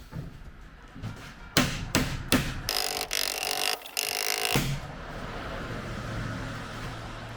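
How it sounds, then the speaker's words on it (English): A hammer strikes steel at a blacksmith's forge in a quick run of sharp, ringing blows, fairly light and close, followed by a quieter stretch of background noise. "I'm also not hammering very hard."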